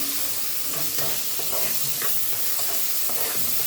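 Rice stirred and frying in a pan with toasted vermicelli, a steady close sizzle with soft scraping stirs throughout, no voices.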